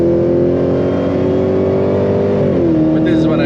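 A 6.2-liter V8 in a 751 hp Dodge Hellcat revs loud and close with a deep, sustained roar, its pitch climbing and dipping, with a brief higher whine near the end.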